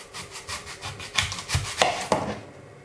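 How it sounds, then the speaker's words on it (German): A knife slices an apple into rings about 1 cm thick, each cut giving a short crisp crunch with soft rubbing between cuts, several close, moderately loud strokes and no talking. "Wir schneiden jetzt schon unsere Scheiben vor."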